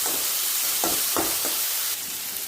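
Mustard seeds, a large chopped onion and three chopped green chillies frying in a pan for a cabbage dish: a steady close sizzle with a few louder bursts where the mixture is stirred.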